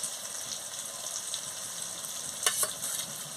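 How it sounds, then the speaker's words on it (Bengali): Spices with ginger-garlic paste fry in a pan for a chicken curry, giving a soft continuous sizzle with a couple of brief stirring scrapes, quiet and close with no talking. "দিয়ে মশলাটাকে ভালো করে ভেজে নিচ্ছি।"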